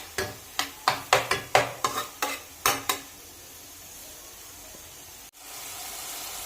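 A spice mixture fries in a pan for a mourala fish curry, with a run of sharp, rhythmic scraping strokes from a spatula over a soft sizzle, then a quieter steady hiss after the stirring stops.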